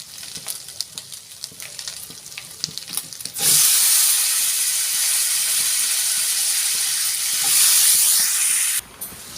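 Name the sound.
washed Malabar spinach and pumpkin frying in a pan with five-spice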